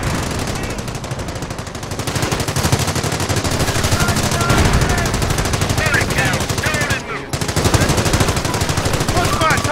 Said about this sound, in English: Battery under small arms fire!